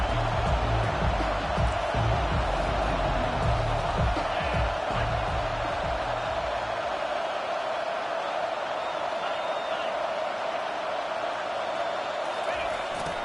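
Football stadium crowd at a college game during a key third down, a loud, continuous roar of cheering and noise that swells and holds throughout, with faint talk mixed in.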